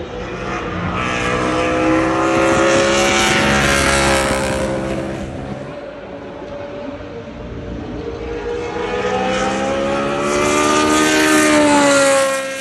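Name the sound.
V16 racing car engine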